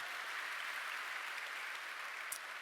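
A church congregation claps together in a steady, even wash of applause, sustained and fairly distant without pause, one small knock near the end.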